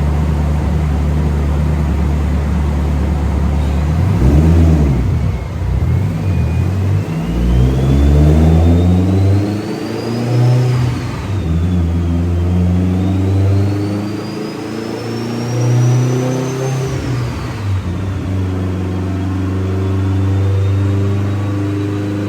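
A Mitsubishi Evo X with a flex fuel engine making around 700 wheel horsepower revs hard on a dyno, a loud sustained engine roar climbing and falling through several pulls, with a rising whine over the top.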